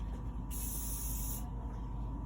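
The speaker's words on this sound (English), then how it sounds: "I've already sprayed them, but I'll spray it again." A single short hiss of spray onto a hair clipper blade, about a second long, over a steady low background hum.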